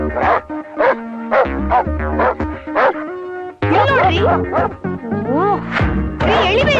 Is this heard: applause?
no